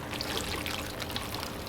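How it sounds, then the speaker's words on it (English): Water poured gently onto seed-starting soil, a soft continuous trickle and splash, close and fairly quiet, with no talking. "I'm going to go ahead and water my soil"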